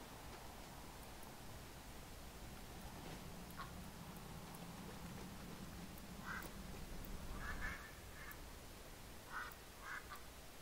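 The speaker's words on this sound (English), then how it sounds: "place this trap duck in the large nest to summon quackers" Duck quacking in a video game after a trap duck is placed in a large nest, a few short nasal quacks over a constant hissing background, fairly faint and without speech.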